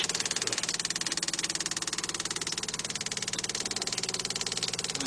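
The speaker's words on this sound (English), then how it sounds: "now it's pumping the gas out right now" An electric fuel pump from a late-1990s to 2005 Volkswagen Beetle, Golf or Jetta runs nearby while pumping gasoline out. It makes a fast, steady pulsing buzz with even rhythmic beats, fairly quiet and heard alone.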